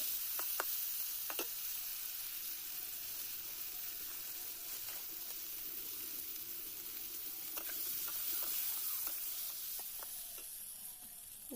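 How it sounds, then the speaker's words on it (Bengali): Pointed gourd (potol) frying in oil with turmeric and salt in a home kitchen, giving a steady, close sizzle with scattered scraping stir strokes throughout. "পটলটা ভালো করে ভেজে নেবো"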